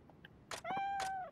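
Cat meowing in the video game Like a Dragon: Ishin!, a single clear drawn-out meow with a few soft game sounds before it.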